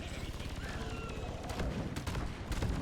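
Steady, rapid gunfire with booming impacts from the first-person co-op mining shooter Deep Rock Galactic rattles on continuously, loud and close, with a voice faintly underneath.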